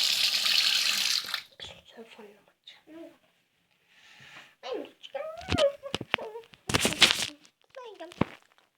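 A bathroom tap runs loudly at first while someone washes their face, then the water stops and a child and an adult talk over scattered splashes and drips.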